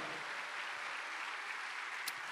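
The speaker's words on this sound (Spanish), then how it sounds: "Dale un aplauso a Cristo, amado hermano." A church congregation applauds Christ during a sermon: a steady, unbroken wash of many hands clapping, fairly even and moderately loud throughout, with no talking over it.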